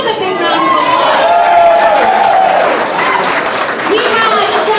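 Crowd applauding at a Nevada progressive leaders awards event, sustained clapping and cheering from a large room, with a voice speaking over the applause throughout.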